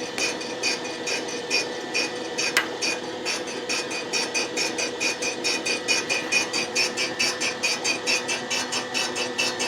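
A boring bar feeds through a 1972 Yamaha DT2 250 two-stroke cylinder, giving a steady close machining whir with fast regular ticking and a faint sharp squeal, no voices.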